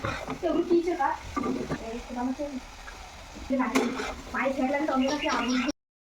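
Food being stirred and sautéed in a pan on a home stove, a steady frying sizzle with stirring scrapes running through, with people talking over it the whole time.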